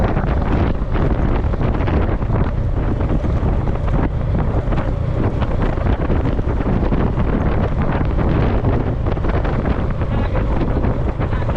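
Strong wind by a rough sea roars steadily against the microphone throughout, a loud, continuous buffeting rumble with a faint wash of water underneath.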